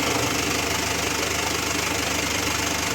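Mitsubishi L300 Euro4 van with a clutch and transmission fault, steady close engine idle with a rough knocking rattle, continuous and fairly loud with no speech.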